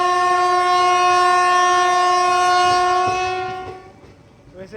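A long, loud, sustained train horn blares up close beside a coal freight train, holds steady for about four seconds, then fades into quieter rail noise.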